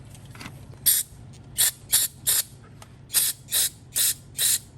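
Brake cleaner sprayed in short bursts through the carburetor of a 450 dirt bike, about eight sharp hissing spurts in an uneven rhythm over a low steady hum, close and fairly loud.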